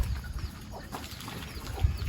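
Scattered soft clucks and brief calls of chickens amid outdoor background noise, fairly quiet and irregular, with no talking, heard during a bicycle ride.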